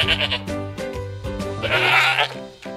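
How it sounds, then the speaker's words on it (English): A goat bleats in a series of wavering, nasal calls, close and clear, with short pulses repeating before a longer, louder bleat near the end. "That's right! It is a goat."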